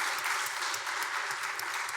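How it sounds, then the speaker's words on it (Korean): A church congregation claps steadily in thanks to its small newly started church orchestra, a dense, even patter of applause with no talk over it. "우리 대원들에게 한번 감사의 박수 드리겠습니다."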